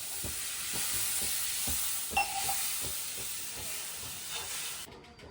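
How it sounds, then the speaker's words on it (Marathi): Water poured into a hot tempering in a pan hisses and steams in a continuous loud sizzling rush with faint stirring knocks, lasting several seconds before cutting off, no talking. "तर आता आपण पाणी ओतून घेऊयात."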